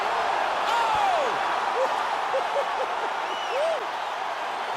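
A video game arena crowd in UFC 4 cheers and roars steadily after a knockout, a loud, dense wash of noise with a few whistles and shouts rising above it.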